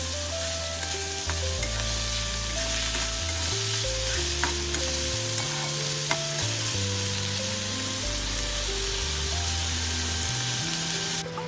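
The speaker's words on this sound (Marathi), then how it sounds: "आपण बारीक चिरलेला कांदा घालून घेणार कांदा आपल्याला गोल्डन कलर येईपर्यंत परतून घ्यायचा आहे" Finely chopped onion sizzles and fries in a pan while being stirred until golden, a constant crackling hiss with occasional scraping stir sounds and tonal background hum, no talking.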